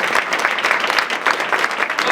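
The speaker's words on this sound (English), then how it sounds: "Clap it up for yourself." Audience at a Martin Luther King celebration applauding, a dense, steady patter of many hands clapping, close and continuous for a couple of seconds.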